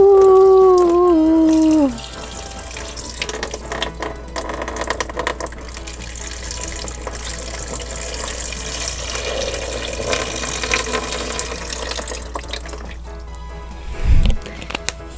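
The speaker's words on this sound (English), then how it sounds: "Now let's put some water in there." Water runs steadily from a tap into a sink holding toy pup figures, a continuous splashing pour lasting around twelve seconds after a brief tonal sound at the start.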